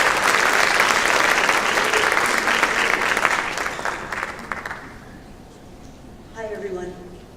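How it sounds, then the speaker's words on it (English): Loud, dense applause from a high school freshman forum audience welcoming a speaker, sustained for several seconds before tapering off, followed by a brief voice. "Please give a round of applause for Dr."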